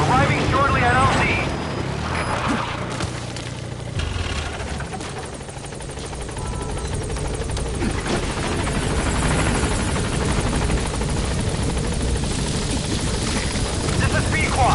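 A support helicopter in a video game arrives at a landing zone, its rotor whir loud and continuous throughout while a radio-style voice talks over it.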